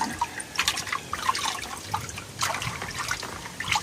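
Fish pieces washed in water by hand, with soft splashes, trickles and drips, fairly faint and close, and no talk.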